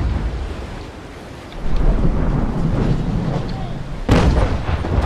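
A brig's cannon fires pot shots at sea, with a heavy, booming rumble partway through and a sharp, loud blast near the end over a constant roar of wind and water.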